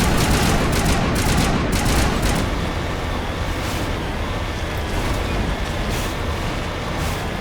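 Heavy vehicle engines rumble and roar continuously with bursts of gunfire layered over them, dense and loud throughout, in the video game Mass Effect.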